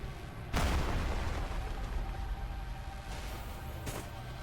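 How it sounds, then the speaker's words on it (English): A blast goes off in the Dungeon Fighter Online game: a sudden broad burst near the start rolls into a sustained rumbling roar, then a second sharp burst hits near the end, with no one talking. "I didn't expect to get caught in the explosion"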